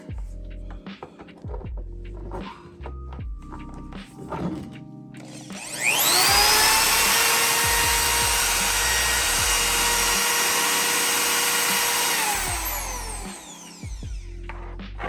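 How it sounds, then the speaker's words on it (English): A corded power drill plugged into an inverter in an off-grid van spins up and whines steadily for about six seconds, loud and close, then winds down. Handling clatter comes before and after it. "So now with the inverter, I can plug stuff in for some power. Let's try it out. So let's try a drill here."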